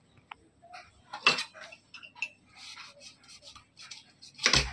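A knife cuts through a boiled, salted vegetable, producing sharp metallic clicks and clinks against a dish or board, spaced irregularly with a couple of louder knocks, in a quiet kitchen.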